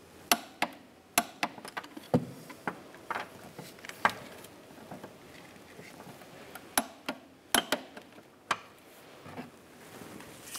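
A torque wrench tightening the rear shock absorber nuts on a 2015-2019 Lincoln MKC, giving a long series of sharp, close metallic clicks in irregular bursts over quiet workshop background.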